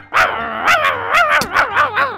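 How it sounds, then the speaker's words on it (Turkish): Dogs fighting in Minecraft, a continuous run of close, loud game barks and yips with snarling, whimpering tones, repeated in quick rhythmic bursts without pause. "köpekler harbiden de çok iyi dövüşürler ya"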